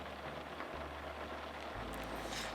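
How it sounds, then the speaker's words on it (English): Rain falls on a camper van at 3:30 in the morning, heard from inside as a soft, even hiss of drops on the roof, faint and continuous with a low rumble beneath. "There's nothing worse than waking up to the sound of rain on the van."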